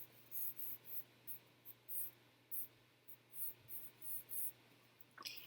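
Pencil lightly sketching guide marks on paper, a series of short, soft scratchy strokes in a steady rhythm, close and quiet with no talking.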